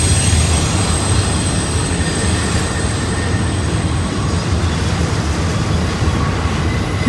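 Intermodal freight train rolling through Horseshoe Curve, a steady, loud rumble of wheels and cars with faint high squeals from the rails running throughout.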